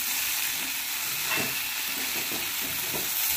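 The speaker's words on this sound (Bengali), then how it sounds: "মিশিয়ে দিয়ে আমি সব সিদ্ধ আমি আরও 2 থেকে 3 মিনিট আমি ভেজে নেবো গ্যাসটাকে মিডিয়াম ফ্লেমে রেখে" Egg, potato and spring onion fry together in a pan over a medium gas flame, giving a steady, close sizzle broken by a few scraping stirs.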